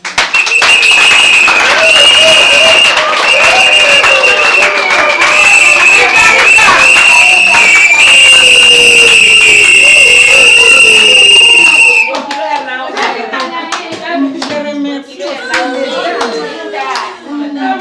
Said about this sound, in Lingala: Est-ce qu'on peut applaudir pour nous?